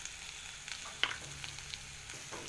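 Soybean curry cooking in mustard paste in a pan, with a faint, steady sizzle and a few soft clicks from stirring. The sound stays quiet and no one talks.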